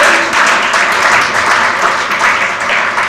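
A crowd applauds steadily at a community address, a dense wash of clapping that holds at a loud, even level throughout.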